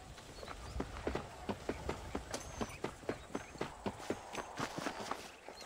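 Horse hooves clip-clop in a steady walking rhythm in Red Dead Redemption, a regular series of close, crisp strikes over a faint background, with no talking.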